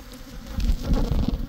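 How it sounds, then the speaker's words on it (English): Honeybees at a hive being prepped for spring buzz in a loud, dense, close swarm hum that swells and wavers without a break, with no talking. "They're not happy right now, as you see."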